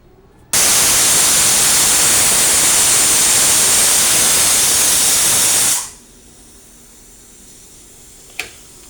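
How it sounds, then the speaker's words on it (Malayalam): A pressure cooker on full flame, cooking rice, lets out one loud, steady hissing steam whistle lasting about five seconds, then cuts off abruptly to quiet background with a single faint click later. "ഫ്ലെയിം ഫുള്ളിലിട്ടിട്ടാണ് ഞാൻ ഒരു വിസിൽ അടുപ്പിച്ചിരിക്കുന്നത്"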